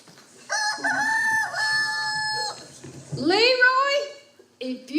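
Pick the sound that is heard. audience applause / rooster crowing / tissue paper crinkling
rooster crowing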